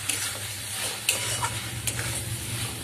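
Spices sautéing in a pan for Bengali egg korma with dried red chillies and sugar: a continuous close sizzle broken by a few sharp spatula scrapes and stirring knocks, no voice.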